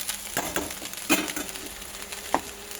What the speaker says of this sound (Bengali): ওইটা আস্তে আস্তে নেড়ে চেড়ে নেবো